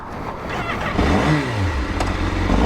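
A 2020 Honda Fireblade motorcycle engine revs up and down in a loud, continuous burst, the pitch rising and falling close by with no talking.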